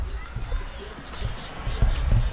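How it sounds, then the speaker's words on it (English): Bird calling at a campsite, one high rapid trill lasting under a second, followed by fainter chirps over low outdoor background noise with no talk. "That was a bird."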